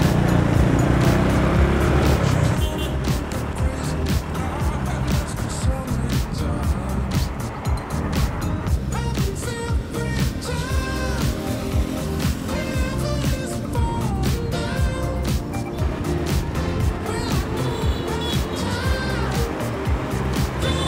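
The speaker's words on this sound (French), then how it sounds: "On va donc se retrouver tranquillement dans la circulation." A car drives through busy city road traffic on the way toward Hanoi, Vietnam, with a steady, dense roar of engines and tyres around it and passing vehicles heard throughout.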